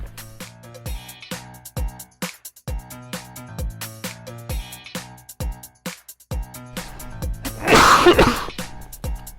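One sudden sneeze near the end, loud and close, over steady rhythmic background music during a 500-piece speed puzzle session.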